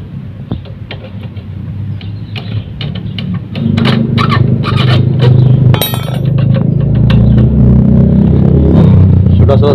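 Metal parts clink and clatter close by while a rear brake rod is fitted on a Honda Mega Pro New motorcycle, with a low engine rumble growing louder underneath.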